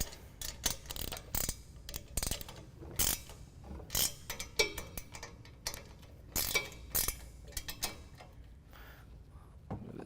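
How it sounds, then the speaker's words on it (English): Metallic ratcheting clicks come in irregular bursts as a 7/16 wrench tightens bolts while a Pioneer rotovator is assembled, close and fairly quiet, with no talking. "7/16 wrench. Make sure everything's tightened up."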